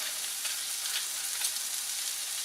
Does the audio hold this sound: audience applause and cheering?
no